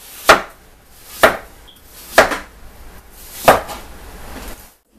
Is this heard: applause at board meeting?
no